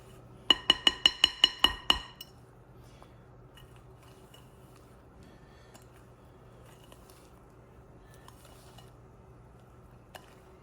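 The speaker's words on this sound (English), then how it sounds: "mix it until it is combined" Brownie batter for triple fudge brownies being stirred in a bowl: a quick run of about eight sharp utensil clinks against the bowl, then near silence with faint low background hum.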